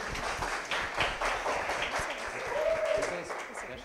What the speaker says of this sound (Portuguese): Palmas, gente, por favor.